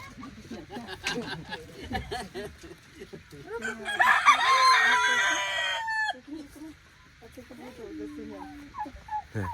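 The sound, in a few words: rooster crowing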